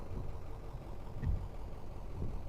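A night bus engine in the horror game Night Bus runs at a low, steady idle, rumbling faintly with a slight thump.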